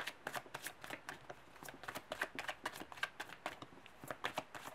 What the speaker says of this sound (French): On va aller quand même tirer d'autres cartes avec l'oracle des anges de l'amour pour préciser tout ça.